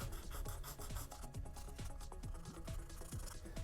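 Light hand sanding across sealer-coated Boba Fett armor, a rapid run of close, soft rasping strokes in a steady back-and-forth rhythm, alone without talk.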